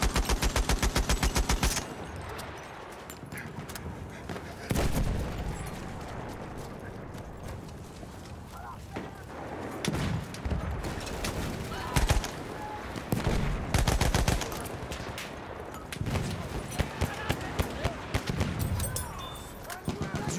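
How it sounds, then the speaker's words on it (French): Enemy machine gun fire in a Verdun World War I video game match, sounding as repeated loud bursts of rapid shots over dense battlefield noise, with voices talking at times. "Là, mitrailleuse ennemie."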